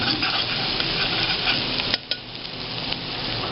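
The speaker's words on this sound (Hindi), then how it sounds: "हमें स्टर फ्राई करनी है ये कैप्सिकम और अनियन" Capsicum and onion stir-fried in a hot pan, with a steady loud sizzle, a spatula stirring and occasional clinks against the pan, close by.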